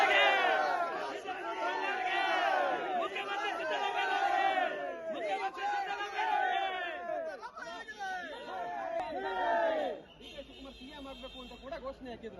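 Congress party supporters chant slogans in unison for DK Shivakumar, loud rhythmic group shouting in repeated bursts that fade near the end.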